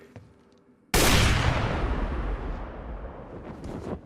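A single loud gunshot blast from Barret's arm gun in Final Fantasy VII Rebirth cracks out after near silence, then rumbles and decays over several seconds with faint debris and echo.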